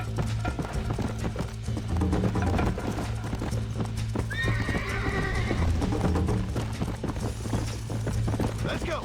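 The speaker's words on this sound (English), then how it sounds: "O cavalo vai cansar." Horse in Red Dead Redemption galloping with steady clip-clop hoofbeats throughout, broken by a loud whinnying neigh midway, all under a constant low game soundtrack drone.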